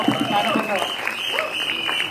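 Crowd at a Marathi film trailer launch event clapping steadily, loud and close, with a voice calling out over the applause and a sustained tone underneath.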